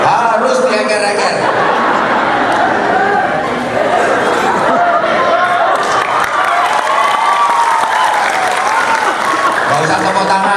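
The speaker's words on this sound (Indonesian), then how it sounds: "Gak usah tepuk tangan." Applause fills the space at a humorous religious lecture marking Isra' Mi'raj at a consulate hall, with steady loud clapping and crowd chatter and laughter running throughout.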